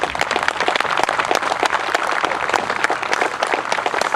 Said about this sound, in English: I think we owe those folks a round of applause